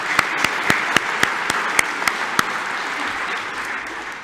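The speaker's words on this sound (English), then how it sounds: "Yes, applause." Audience at a Melbourne Polytechnic graduation ceremony clapping. Distinct claps come first, then blur into a broad, fading wash of applause.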